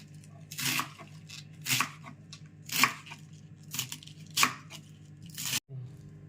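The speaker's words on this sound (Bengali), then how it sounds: "আমি এবার সব বাঁধাকপিটা কেটে নিচ্ছি।" A knife cuts cabbage into large pieces on a board, about six crisp, separate crunching strokes at uneven intervals, close and alone with no talking.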